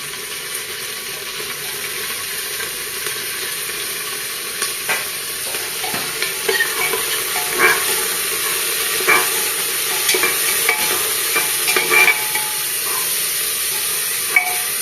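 Curry leaves, coriander and mint being stir-fried for chicken biryani give a steady, close sizzle with a constant frying hiss, broken by repeated light scrapes and taps of a spoon stirring in the pan.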